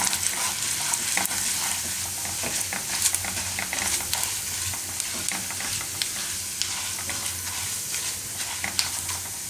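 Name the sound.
mustard seeds, chana dal and urad dal frying in oil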